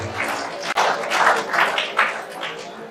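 Audience applause at a motivational talk on board exam success, a steady wash of clapping that swells in waves across the hall, with one sharp tap standing out early.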